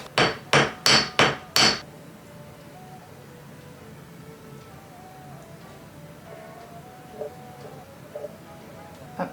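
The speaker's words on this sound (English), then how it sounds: "Maybe I can just hammer it flat and that will help." Five sharp, evenly spaced hammer blows flatten wire for a tooth jewelry bird necklace, loud and close at the start, followed by a quiet workbench with a few faint clicks.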